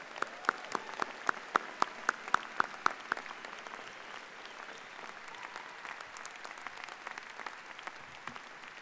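Audience applause welcomes the 153rd entering class at the University of Washington, opening with a few distinct claps that swell into a sustained, moderately distant round of clapping.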